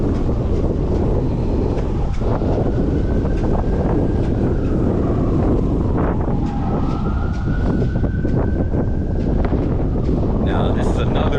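Strong gusting wind buffets the microphone on a city walking tour in Montgomery, Alabama, a loud continuous low rumble that swamps everything else, with a faint distant siren-like wail threading through.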